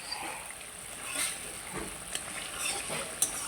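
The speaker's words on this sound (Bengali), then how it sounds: "মশলাগুলো আমি জাল দিতে আছি" Spices frying in oil in a covered pan in a Bengali home kitchen, giving a soft, steady sizzle with faint hiss and a few light pops throughout.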